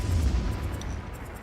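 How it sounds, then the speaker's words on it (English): A deep boom from an animated cartoon's volcano explosion, a low heavy rumble that starts strong and slowly fades over about a second and a half, alone without speech. "Well, the first explosion should be going off right about now."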